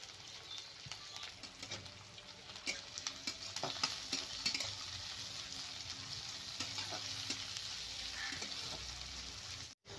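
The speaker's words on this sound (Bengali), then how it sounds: "একটু নাড়াচাড়া করে পেঁয়াজটা ভেজে নেব" Sliced onions fry in oil for a bottle gourd and fish head dish, a soft, steady sizzle with intermittent clicks and scrapes of a spatula stirring the pan.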